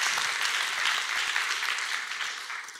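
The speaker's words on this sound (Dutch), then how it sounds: "Hartelijk applaus." Warm applause from the audience at an exhibition opening with lectures, film and music, a dense, steady clapping of many hands that carries on and slowly fades toward the end, with no voices heard.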